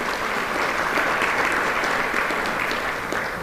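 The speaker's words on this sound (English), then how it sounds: "Give them a round of applause." An audience at a town's annual state-of-the-town address applauds its sponsors, a dense, even roar of clapping that stays loud and continuous with no speech over it.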